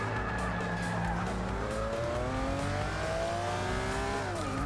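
Engine of a 1986 Lamborghini LM 002 driven off-road in Forza 6, loud and close, revving and shifting through rising gear pitches with tire noise underneath.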